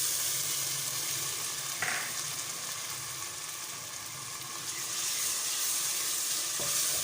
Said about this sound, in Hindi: इसको 1-2 मिनट के लिए बस फ्राई करूँगी मैं